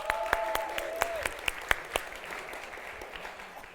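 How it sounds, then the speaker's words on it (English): Church congregation applauding: a burst of crisp individual claps from a modest crowd that thins out and fades after a couple of seconds. "round of applause for these guys"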